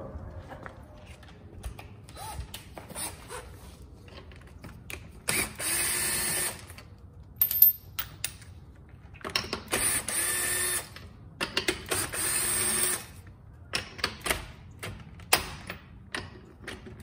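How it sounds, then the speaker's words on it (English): A floor jack is pumped under a Porsche Cayman to raise it. Short bursts of mechanical ratcheting clicks come in uneven groups, with pauses between them, close and fairly clear. "So I'm going to stick my jack under there and jack it up"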